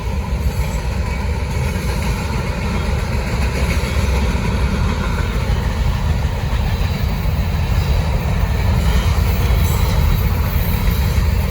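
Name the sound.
fast freight train passing, Norfolk Southern locomotive 3626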